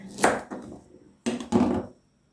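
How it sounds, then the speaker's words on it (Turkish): A few knife chops on a cutting board, sharp close thuds in two short clusters separated by a brief pause. "Ben pancarlarımı doğramaya başladım"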